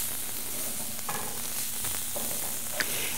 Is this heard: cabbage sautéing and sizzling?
yes